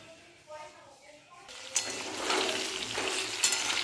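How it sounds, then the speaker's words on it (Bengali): Green tomato, green papaya and green banana frying in hot oil, a steady close sizzle rising after a quieter start, with occasional clinks of a utensil against the pan. "কাঁচা টমেটো, কাঁচা পেঁপে আর এই কাঁচা কলা সুন্দর করে আমি ভেজে নিচ্ছি তেলে।"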